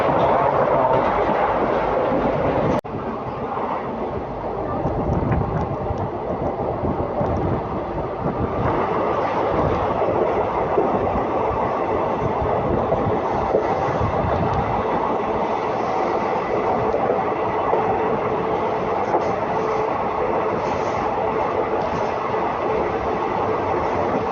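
Gujarat Superfast Express 22954, running from Ahmedabad to Mumbai Central with ICF coaches, races past at speed, a loud continuous roar of wheels and carriages with steady clatter, close by and heard alone throughout.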